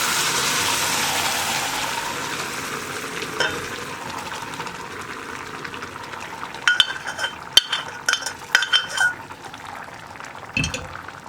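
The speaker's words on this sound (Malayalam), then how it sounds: "ഇനി ഇതെല്ലാം ചേർത്ത് നന്നായിട്ടൊന്ന് ഇളക്കി മിക്സ് ചെയ്യുക" Cooked dal (parippu) is stirred into tomato gravy in a pan for a Kerala dal tomato curry: a soft bubbling simmer, then scattered scraping and clinking spoon strokes near the end, without talk.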